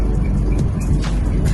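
A truck idles and pulls out on a cold morning in Gujarat, a loud, steady low engine rumble close by with no talk.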